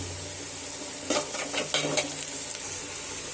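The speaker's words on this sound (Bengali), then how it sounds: "এখন সিম তরকারির পেঁয়াজটা তেলানি হচ্ছে" Onion frying in oil in a pan for a bean curry, a soft steady sizzle with a few bursts of stirring scrapes in the middle.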